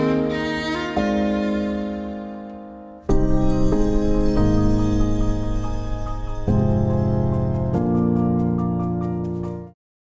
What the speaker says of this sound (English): I thought I'd turn this fork dropping into kind of an alternative crash cymbal